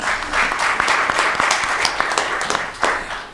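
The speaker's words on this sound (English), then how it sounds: "Big round of applause, everybody." Applause from a retail summit audience, many people clapping in a continuous crackling wash with a few sharper individual claps standing out, steady and fairly loud throughout.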